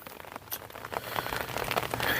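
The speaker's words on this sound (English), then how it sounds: "it's still raining" Steady rain pattering outdoors during a barbecue cook of beef back ribs in an Oklahoma Joe's Bronco drum smoker, a soft, continuous wash of drops on surfaces, moderately quiet with no talking.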